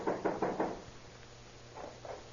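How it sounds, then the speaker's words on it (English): Knuckles rap on an apartment door in an old radio drama: four firm, evenly spaced knocks, then a pause and two softer knocks, close and clear with no voices. "Better try knocking, Stone."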